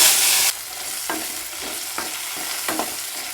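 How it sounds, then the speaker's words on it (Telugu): Cut tomatoes frying in a pan, a loud initial sizzle settling into steady crackling with several soft stirring scrapes at regular intervals; no talk. "కట్ చేసుకున్న టమాటోస్ కూడా వేయించుకోవాలి"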